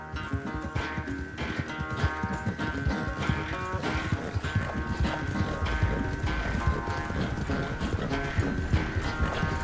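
Horse hooves clip-clop in a steady walking rhythm in Red Dead Redemption 2, close and continuous over quiet ambient game sound, with a brief snort or whinny.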